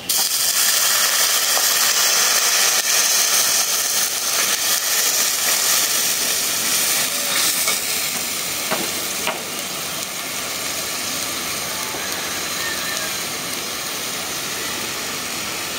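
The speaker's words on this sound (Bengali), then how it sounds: "পেঁয়াজটা ভাজা হয়ে গেছে, এখন মশলা দেওয়ার জন্য দিয়ে দিচ্ছি পানি।" Water hits a pan of fried onions in a village kitchen and sets off a loud, dense sizzle that covers the whole stretch, easing slightly toward the end as it steams.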